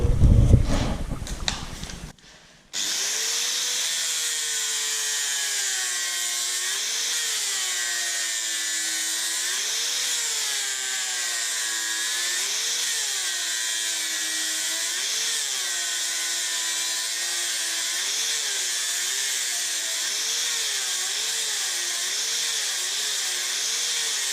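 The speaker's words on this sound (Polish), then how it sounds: "Od razu jedziemy ten spaw e, tą ściernicą." Angle grinder with an abrasive disc working a steel weld on a loft-style industrial table base, a loud sustained whine whose pitch wavers as pressure changes, preceded by a brief rough burst at the start.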